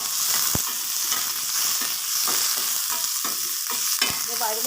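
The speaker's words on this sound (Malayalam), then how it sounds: "ഒന്ന് ഇളക്കി കൊടുക്കാം." Green chilies fry in oil in a pan for egg curry while being stirred, a steady close sizzle broken by spatula scrapes and two sharp metallic knocks.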